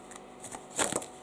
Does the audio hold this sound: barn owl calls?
no